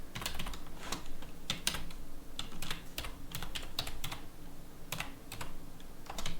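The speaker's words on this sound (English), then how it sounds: "I'm not sure I'm typing this right" Someone types a console command in Morrowind on a computer keyboard, close and clear, in uneven bursts of keystrokes with short pauses between them.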